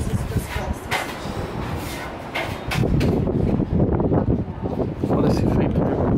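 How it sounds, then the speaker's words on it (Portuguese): Wind gusts outdoors roar and buffet the microphone in a continuous rushing wash that swells louder midway, with a voice talking over it. "Olha esse vento"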